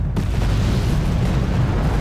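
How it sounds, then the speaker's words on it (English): Booming artillery explosions from the Wargame Red Dragon strategy game rumble heavily and continuously, a dense, loud, low barrage with no separate pauses between impacts. "Uh-oh, artillery."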